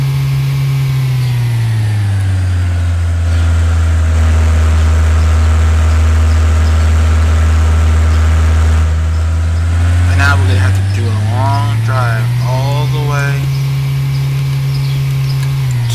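A 1970 El Camino SS engine in a driving game drones steadily at idle, then its pitch rises and falls through a rev. A person talks over it partway through.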